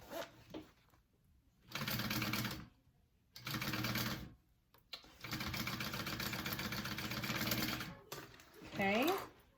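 A sewing machine bastes fabric for a bag in three bursts of steady, close mechanical whirring separated by short quiet gaps, with faint talk in the pauses and a voice at the end.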